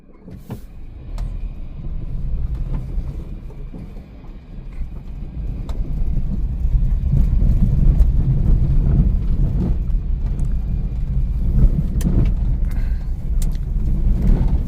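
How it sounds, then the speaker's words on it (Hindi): A vehicle rolls up on a forest road at night in Rajaji Tiger Reserve, a steady low engine rumble building and staying loud and close, with a few knocks and rattles over it. "एक गाड़ी और आ गई, इसको भी साइड दे दी जाए।"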